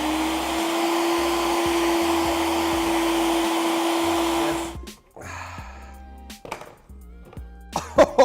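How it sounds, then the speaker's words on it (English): A kitchen blender runs with a loud, steady whir while making a steak rub, then cuts off abruptly, followed by a few clicks and light handling sounds. "Oh, you don't want me to talk over the blender?"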